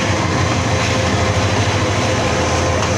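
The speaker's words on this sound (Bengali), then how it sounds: "কিশোরগঞ্জ এক্সপ্রেস মাত্র ট্রেনটি প্রবেশ করলো কিশোরগঞ্জ রেল স্টেশনে।" Kishoreganj Express train pulling into Kishoreganj railway station, a steady loud low rumble of the engine and rolling wagons throughout, with no talk.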